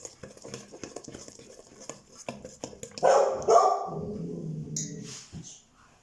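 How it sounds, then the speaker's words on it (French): A pet dog barks indoors in a home kitchen while nut brownies are being baked, a few sharp, mid-distance barks following quieter clinking and handling noises, with no one talking. "Ah ben, vous avez entendu, c'est mon chien"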